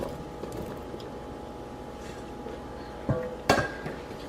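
After a quiet stretch, one large chopped onion and three pounds of peeled, small-cubed gold potatoes go into a soup pot with two distinct clattering thuds and a short rattle.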